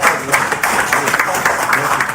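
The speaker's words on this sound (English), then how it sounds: "Please give your several applause." An audience at a school debate event breaks into dense applause, a brief burst of many hands clapping close by, with a voice speaking over it.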